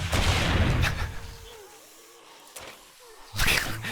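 Gunfire and explosive blasts tear through zombies in the survival game 7 Days to Die, with two loud, sharp bursts at the start and end separated by a quieter gap of faint gamey chirps.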